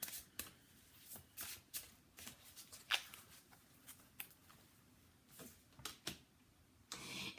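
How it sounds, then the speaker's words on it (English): Quiet, close-up tarot card shuffling: a series of soft riffling bursts and taps at an uneven rhythm, with a longer riffle at the end. "I'm just going to shuffle the cards a little bit more."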